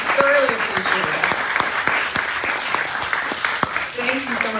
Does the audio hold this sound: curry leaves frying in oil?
no